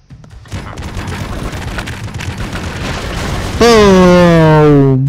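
Rocket launcher explosions in the Broforce video game roll as a dense, continuous barrage of booms and crackling blasts, loud and close, ending in a sustained descending tonal whine.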